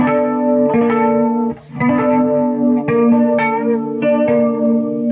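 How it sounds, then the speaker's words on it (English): Electric guitar notes ring out through tremolo, flanger and chorus effects, with a pulsing tremolo and shimmering chorus over a few sustained, repeated chords. "So the first one is like a tremolo, so like flanger, backup chorus"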